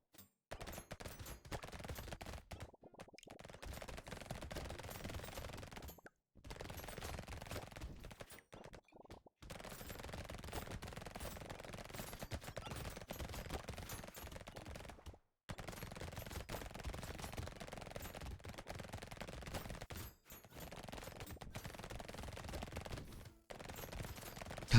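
SMG fire in the video game Brotato, with rapid, continuous automatic shots running in long bursts and separated by brief silent gaps, fairly quiet and with no voices.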